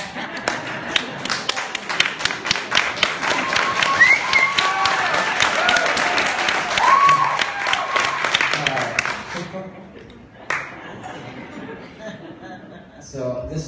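A concert audience at the Triple Door claps and applauds steadily for about nine seconds, with chuckles in the crowd, before the clapping fades into quieter room sound.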